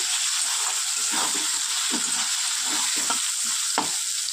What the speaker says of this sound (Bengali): চলুন একটু বেগুনটা ভেজে নিয়ে একটু হালকা করে ভেজে নিয়েছি